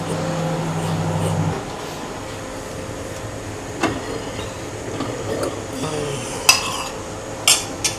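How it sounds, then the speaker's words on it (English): A utensil scrapes and clinks softly against a pan while sauce is stirred, with scattered sharper metallic taps over a steady kitchen hum, close and fairly quiet. "just give the sauce a bit of a stir"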